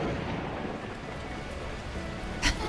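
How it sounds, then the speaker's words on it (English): Torrential rain pours in the video game Beacon Pines, a dense, steady roar of water with a brief low rumble of thunder near the end, heard alone with no talk. "unleashing torrential rain."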